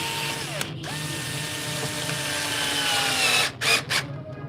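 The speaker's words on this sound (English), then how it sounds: "I'm getting this one screw from here to first tighten this" A screw is tightened into a power circuit board while a DIP integrated circuit is being removed, giving a whirring, ratcheting tool sound, continuous at first then broken into short bursts near the end, with no talk.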